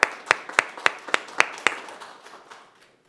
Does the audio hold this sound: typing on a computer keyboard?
no